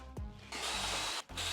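Special power tool cleaning a BMW F30-series wheel hub during rear shock absorber replacement, a loud abrasive grinding whir that spins up, runs steadily and stops briefly before restarting.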